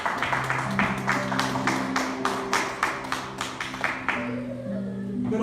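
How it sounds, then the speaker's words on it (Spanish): A church congregation claps in a strong regular rhythm, roughly two beats a second, with a sustained keyboard chord ringing beneath and fading out near the end. "Dale un aplauso al Señor."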